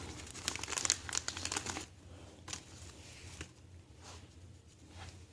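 Plastic packaging around a new replacement part for a dual-stage Murray snow blower crinkles and rustles sharply up close for a couple of seconds, then softer scattered crinkles and handling sounds follow.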